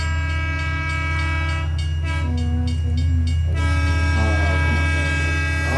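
A train sound effect plays as a stream hype train alert on a radio show, with a steady rumble, a horn-like tone sounding through the middle, and shifting whistle tones near the end, continuous and loud.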